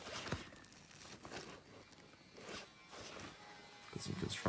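Zippers on an Osprey Transporter Duffel 130L duffel bag being pulled open and shut up close, giving a few rasping, scratchy bursts with soft rustling handling noise and a low background hum between them.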